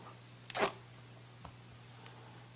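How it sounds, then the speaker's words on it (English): A plastic tab is ripped off 2010 Apple iPod nano packaging in one quick, close tearing scrape, followed by a couple of faint taps against a low steady hum. "So we have this little tab here to pull off."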